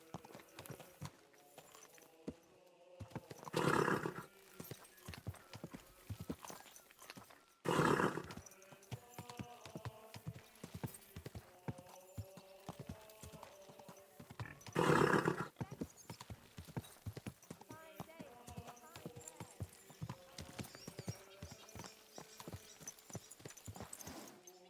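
Horse hooves clip-clop steadily in Kingdom Come: Deliverance II, quiet and close, broken by three louder neighs spread across the stretch.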